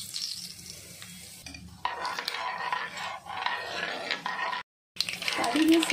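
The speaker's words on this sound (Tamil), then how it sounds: "ஆயில் சூடாயிடுச்சு, இப்போ கடுகு சீரகம் சேர்த்திடலாம்." Mustard seeds and cumin sizzle in hot oil for a ridge gourd kadaiyal. A steady crackling hiss comes in after a quieter start, breaks off briefly for a moment, then returns loud and close.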